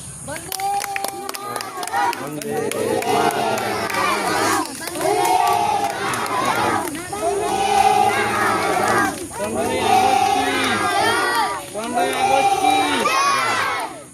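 At a primary school flag hoisting for Independence Day, children shout and cheer in rhythmic bursts. The shouting repeats in waves with some clapping mixed in, loud and close, and voices rise over the crowd.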